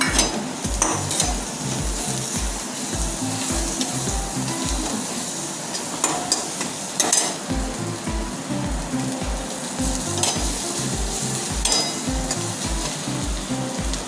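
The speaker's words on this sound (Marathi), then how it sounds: "आता मी फोडणीला टाकते" A phodni tempering crackles and sizzles in hot oil for a Maharashtrian maswadi rassa. Steady frying hiss comes with a regular pulsing low thump and scattered sharp pops and spatters, with no voices.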